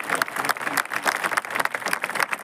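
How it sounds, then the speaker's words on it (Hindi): An audience at a yoga centre and temple gathering claps loudly to welcome someone, a dense burst of applause lasting a couple of seconds, with no speech. "जोरदार ताली से स्वागत करें"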